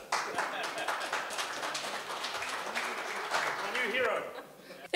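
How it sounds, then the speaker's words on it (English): Faint, scattered clapping from a crowd welcoming a member of parliament to the stage, continuing under chatter and murmuring for several seconds. "Give her a round of applause."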